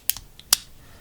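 Two quick, crisp metallic snips close by from the scissors of a Victorinox SwissTool Spirit XC multi-tool, a short pause between them, in an otherwise quiet setting.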